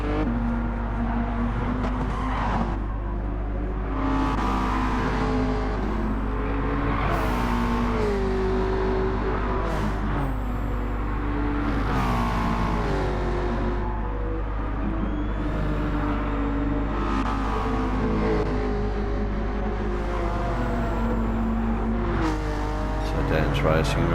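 Race cars in Gran Turismo 7 at Atlanta drone steadily through a 14-lap race, engines rising and falling as cars pass, under continuous commentary.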